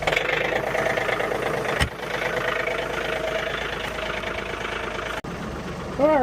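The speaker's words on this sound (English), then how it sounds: "Get the old John Deere started up and use this to move stuff around." An old John Deere tractor engine runs steadily at a loud, constant level, its low rumble continuous throughout with a brief dip partway, and a voice briefly audible near the end.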